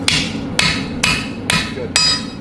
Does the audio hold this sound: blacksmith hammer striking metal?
yes